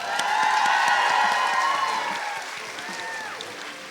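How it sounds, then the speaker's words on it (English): An audience applauds at the International Nepali Film Award 2016 ceremony, a full, steady wash of clapping with some cheering that eases off after a couple of seconds. "A big round of applause."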